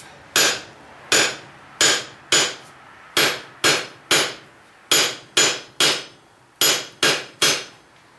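A metal taper is hammered on an anvil with a dozen or so sharp, ringing strikes. The blows come in quick groups with short pauses between them, close and loud, with no talking.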